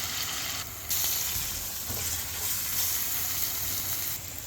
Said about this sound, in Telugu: కొద్దిసేపు దీన్ని వేగనిద్దాము.